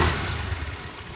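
A hire motorcycle's engine runs near Pompeii, a steady close mechanical rumble settling at idle, brief and continuous without voices.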